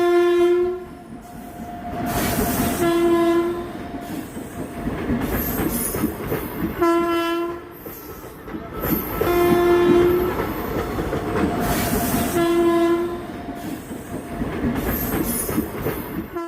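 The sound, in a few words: trains passing at a railway crossing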